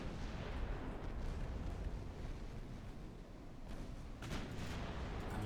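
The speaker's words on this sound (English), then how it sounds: "Lock on the third ship in the line and open fire if you can." Naval gunfire and shell bursts from warships in the Ultimate Admiral Dreadnoughts battle game form a continuous heavy rumble with booming, distant-sounding blasts and no speech.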